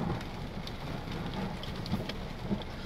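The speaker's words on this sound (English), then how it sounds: "Looking at the thunderstorm" Steady rain falls during a thunderstorm as a dense, continuous hiss with a few soft thumps scattered through it, and no voices are heard.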